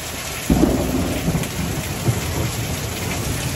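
Heavy rain pours steadily on surfaces with a thunderstorm rolling through, a low thunder rumble mixed into the dense, continuous downpour; no one speaks.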